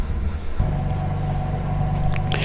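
A twin-turbo 3-liter inline-6 engine in the racing game Need for Speed Heat drones at a steady, loud idle-to-cruise pitch, its harmonic hum holding constant with a brief rise in intensity near the start and no talk over it.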